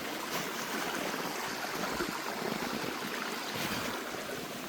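Runoff water flows steadily through a small, narrow culvert near Friar Tucks Well at Fountain Dale, Harlow Wood, making a continuous broadband rushing and trickling sound with no voices.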